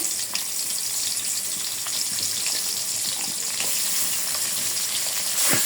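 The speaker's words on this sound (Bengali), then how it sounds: "আমার পেঁয়াজটা ভাজা হয়ে গেছে" Chopped onions fry in oil for a curry of Malta potatoes and native rooster, giving a steady, close, even sizzle that runs the whole time with faint crackles and no talk.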